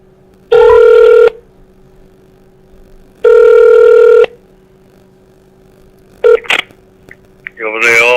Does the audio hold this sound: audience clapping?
no